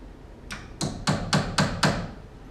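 A nail is hammered into wood while marking a fascia board: five or six sharp, ringing hammer blows about a quarter second apart, growing louder after a softer first tap, close by with no talk.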